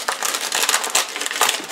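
Dried sourdough culture being handled on parchment paper, giving a close, dry crinkling and crackling with irregular bursts of crushing and rustling throughout.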